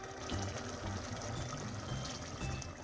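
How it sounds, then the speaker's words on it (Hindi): Water poured into a pot of aloo matar salan with large potatoes, a steady splashing, filling rush lasting throughout at moderate loudness, close by, with no talking. "मैं इसके अंदर थोड़ा सा पानी अभी और ऐड करूंगी ताकि ये हमारे आलू अच्छे से गल जाए"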